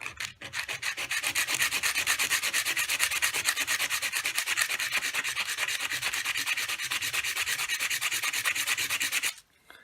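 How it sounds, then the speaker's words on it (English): Close, rapid back-and-forth rasping of sandpaper rubbed against a carved stone pendant, continuous and even for several seconds before stopping abruptly. "just rub where you want to take away the stone"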